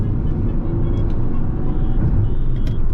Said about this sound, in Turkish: Mesela 4000 devire kadar çeviriyorum. Yani araba gitmeye çalışıyor.